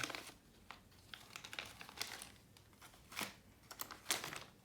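Plastic parts bags from an XRAY GTXE 2023 Edition RC car kit crinkle in a string of close, sharp bursts, irregular and quiet between rustles, with no talking.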